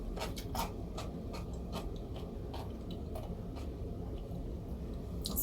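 Knife slicing through a cucumber on a cutting board, a run of crisp, close, quiet crunchy cuts at an uneven rhythm, with no talking.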